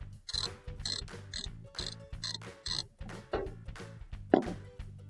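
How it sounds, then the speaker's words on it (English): A ratchet fitted with a 3/8 inch socket loosening nuts on a Frigidaire oven, giving rapid repeated clicking bursts in a steady rhythm, close up, with a sharper clank near the end and no talking. "I want to use a ratchet. The ratchet's got a 3/8" socket on it, and I want to loosen up all these nuts"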